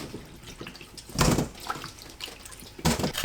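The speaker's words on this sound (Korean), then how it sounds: "토란 흙을 씻어냅니다" Running water splashes over taro roots as soil is rinsed off by hand, with two louder bursts of pouring and rubbing against steady, softer trickling and drips close by.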